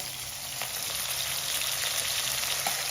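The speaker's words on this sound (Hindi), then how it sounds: "तो अब बारी आ गई है प्याज डालने की। तो ये प्याज डाल रही है।" Chopped onions frying in a pan with ginger, a steady, fairly loud hiss and crackle of oil, with faint scraping of stirring, continuous and close, with no talking.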